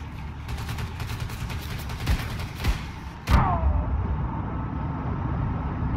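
A few sharp gunshots crack mid-range over steady rumbling noise in Wolfenstein II: The New Colossus, with one heavier blast followed by a fading ring as Nazi soldiers close in near train cars.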